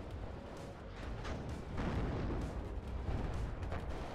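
Tank gunfire in the WARNO wargame as T-80U tanks and BMP-3s trade shots: a dense, continuous barrage of booming blasts and rumbling explosions that swells louder midway, with no speech.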